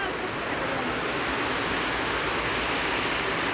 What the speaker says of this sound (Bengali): যে বৃষ্টি নামছে